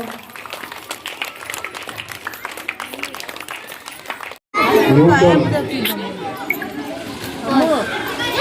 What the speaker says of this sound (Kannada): ಜೋರಾದ ಚಪ್ಪಾಳೆ ಬರಬೇಕು